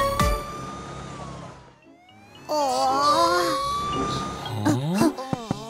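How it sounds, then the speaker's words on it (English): An animated cartoon ambulance siren wails and warbles loudly, its rising and falling tones sweeping over background noise, with short honks or chirps near the end. "Here comes the ambulance."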